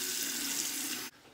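Tap water runs steadily from a faucet into a sink for wetting the face before a safety razor shave, a continuous close hiss that cuts off abruptly near the end.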